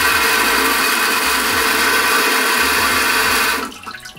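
A LUXE Bidet Neo 185 nozzle sprays water on the rear wash setting, a loud, steady rushing hiss that runs unbroken for several seconds and then cuts off abruptly near the end.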